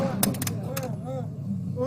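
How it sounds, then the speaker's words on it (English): Sharp gunshots crack out amid a tense police confrontation, a few loud reports in quick succession over shouting voices and background commotion. "shots fired"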